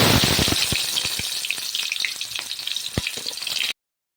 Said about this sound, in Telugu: ఆనియన్స్ని గోల్డెన్ కలర్లో వచ్చేలాగా ఫ్రై చేసుకోవాలి.